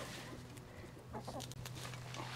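Rooster on a farm clucking in short bursts near the middle, close and fairly faint, over a steady low hum and background farmyard noise.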